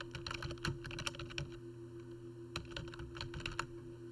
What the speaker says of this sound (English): Click in the Caption field, press spacebar, and then type Vacation Allotment.